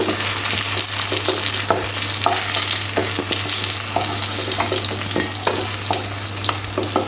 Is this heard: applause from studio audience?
no